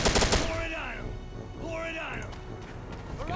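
Rifle bursts open up in a modern Iraq War combat video game, a rapid loud volley of shots followed by ringing echoes and a second round of firing, with battlefield noise continuing underneath.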